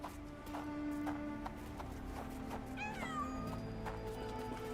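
Cats meow in a video game set in a town, a couple of rising, wavering calls over a steady background hum and faint rhythmic clopping, with no talking.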